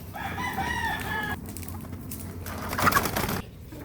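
A hen squawks and clucks in agitated bursts as it is caught, then a rustling flurry like flapping wings takes over before things settle.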